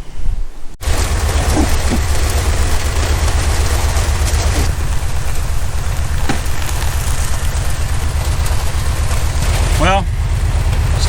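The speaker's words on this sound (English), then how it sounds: "Well, it started raining on us." Steady outdoor rain falls without pause, a dense even hiss with a low rumble underneath and a few brief bursts of nearby voices.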